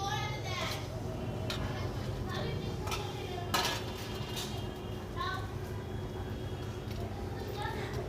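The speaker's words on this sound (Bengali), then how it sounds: "এবার মাছগুলো একে একে সব মাছগুলো ভাজা মাছগুলো দিয়ে দেবো" Pieces of fried fish go one by one into a cooking pot, with scattered metallic clinks and scrapes of a utensil against the pot in a village kitchen and faint voices in the background.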